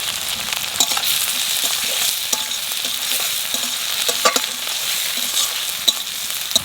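Okra (bhindi) fries with green chillies in a pan, making a constant bright sizzle with spatula scrapes and clicks of stirring throughout, close and moderately loud, with no voices.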